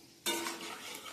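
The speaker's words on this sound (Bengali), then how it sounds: "এবারে দিয়ে দিচ্ছি একটু সর্ষে ফোড়ন আর দুটো শুকনো লঙ্কা ফোড়নে দিয়ে দিলাম" Mustard seeds and two dry red chillies hit hot oil after peanuts have been fried, giving a sudden loud crackling sizzle that starts sharply and continues steadily, close up, with no talk.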